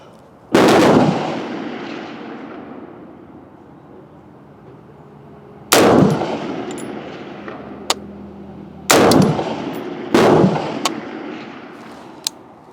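Rifle shots from a 10.5-inch Australian Automatic Arms SAC fired at a 300 m range, five sharp loud reports spaced unevenly with long ringing decay, plus faint distant pops between them.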